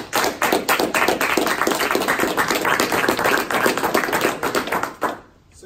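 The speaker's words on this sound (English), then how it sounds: "round of applause" An audience gives a round of applause at a Norco BPM event, dense steady clapping that lasts about five seconds before fading out.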